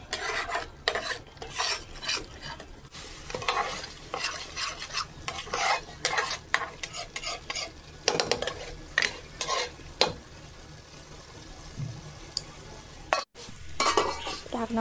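Masala for a rui fish kalia sizzles in a pan while a spoon stirs and scrapes it in irregular clattering strokes, with a soft frying hiss running underneath.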